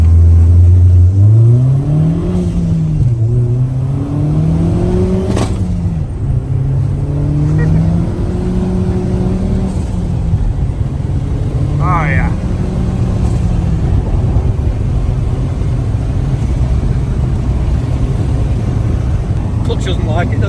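A Mercedes SLK sleeper car accelerates hard up to the speed limit, its engine note climbing through several gear changes, loud and close from inside the cabin, with people talking over it.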